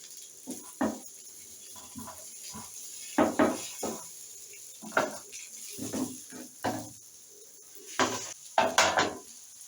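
Scattered clinks and scrapes of a spatula against a pan as a besan potato omelette is flipped, close and moderately loud, irregular taps over a faint kitchen background.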